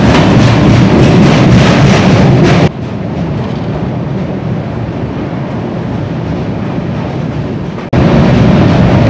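A train crosses a bridge on the approach into Varanasi with a loud, steady rumble of wheels and wagons. The sound grows heavier and brighter at the start and again near the end, with no voices.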